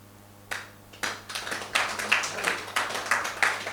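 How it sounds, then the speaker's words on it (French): Audience applause at a French public-speaking session: scattered claps start, then build into steady, dense clapping from a roomful of people, fairly close and without talk. "C'est bien, on l'applaudit très très fort."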